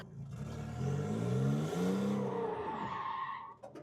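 A drifting car under full throttle: the engine revs hard while the tires skid and squeal in one continuous, close, loud roar lasting several seconds. Nobody speaks.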